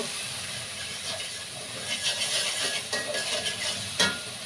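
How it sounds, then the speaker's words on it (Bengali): Ginger garlic paste and cumin fry in a little oil for a pangas fish dish, with a soft continuous sizzle and occasional light spoon stirs against the pan. "তেল সামান্য দিয়ে দিচ্ছি আদা রসুন পেস্ট আর দিয়ে দিচ্ছি সামান্য জিরা এখন আমি এগুলো কষিয়ে নেব"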